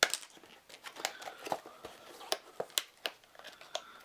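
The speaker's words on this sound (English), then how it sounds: "Now you gotta be careful when opening these so you don't accidentally cut the cards" Scissors snip and tear through plastic blister packaging holding a Star Wars: Imperial Assault villain pack, a series of sharp close cuts and crinkles in an irregular rhythm with no talking.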